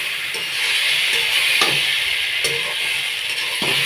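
Water poured into a sizzling taro spice mix in a wok sends up a loud, steady hiss of steam, with a few faint scrapes of a spatula along the metal.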